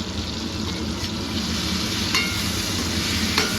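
Pointed gourd (potol) frying in a pan, giving a steady, close hiss of hot oil with a couple of faint clicks of utensils.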